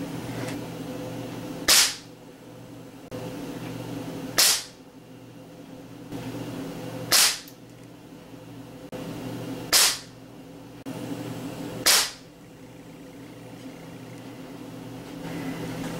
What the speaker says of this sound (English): I'm going to start out shooting at 30 feet from a standing position with the rifle shouldered using the open sights